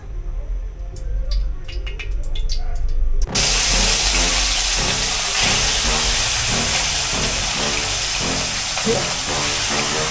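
Fish frying in hot oil in a home kitchen: a few seconds of quieter background sound give way to a loud, steady, close sizzle that continues to the end.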